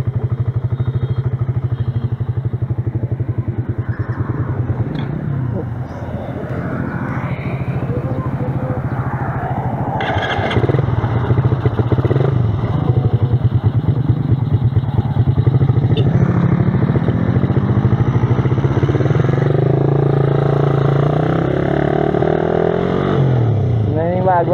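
A stock fuel-injected Raider 150 motorcycle engine runs steadily and close by, rumbling throughout with a few revs and clattering noises, while someone talks over it.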